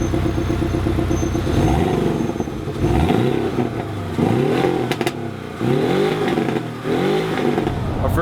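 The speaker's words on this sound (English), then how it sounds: "since Porsche put a new 4-cylinder engine in it, the first thing that people want to know is the sound" A Porsche 718 Boxster S with a new four-cylinder engine revs repeatedly on a street in Lisbon, with several rising and falling blips over a throbbing idle, loud and close.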